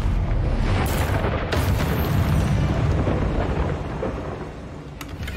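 A Confringo spell explosion in the video game Hogwarts Legacy, a heavy, rumbling burst that booms loudly at first, then rolls on and fades over several seconds.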